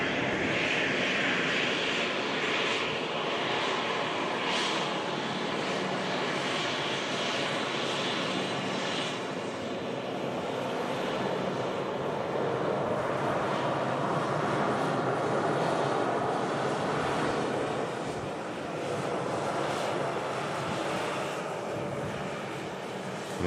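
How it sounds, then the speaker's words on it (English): A TUI Boeing 787 Dreamliner departs Manchester Airport, a loud sustained jet engine roar that builds and shifts over a long stretch, heard alone without talk. "Dreamliner on the way out to Montego Bay"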